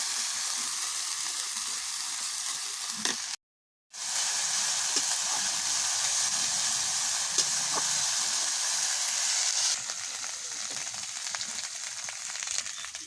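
Onion paste fries in a pan with a loud, continuous close sizzle and occasional soft stirring scrapes, briefly cut off by a short gap before the hiss resumes.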